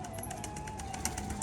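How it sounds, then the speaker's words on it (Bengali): Rajshahi pigeons at a pigeon farm, with soft, low cooing heard close by over steady background noise and a few faint, brief higher calls, with no speech. "এটা হচ্ছে অরিজিনাল রাজশাহী পায়রা"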